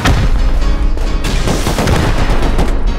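Dense gunfire and grenade blasts fill a video game raid defense, a loud continuous barrage of overlapping shots and booms with no pauses.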